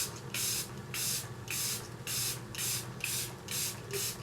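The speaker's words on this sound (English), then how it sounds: "I'm gonna use my favorite, the Air Brush Flawless Setting Spray" Airbrush Flawless setting spray misted onto a face in repeated bursts, about eight short hissing sprays in a steady rhythm, close and fairly loud, with no talking.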